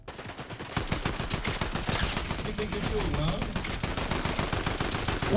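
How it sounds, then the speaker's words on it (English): Rapid automatic gunfire from a Fortnite match crackles in dense bursts nearly throughout, loud and continuous, with a voice talking over the shooting. "Who shoot at me? Who try shoot at me?"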